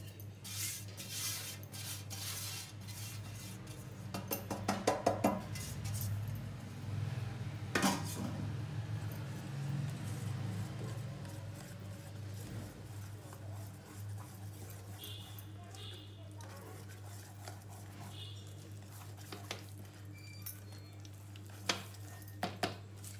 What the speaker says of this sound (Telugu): ఇప్పుడు ఉండలు లేకుండా, అంటే లంప్స్ లేకుండా మిక్స్ చేసుకోవాలి బాగా మనం